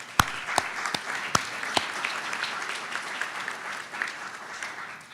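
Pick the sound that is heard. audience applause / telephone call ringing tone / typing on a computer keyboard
audience applause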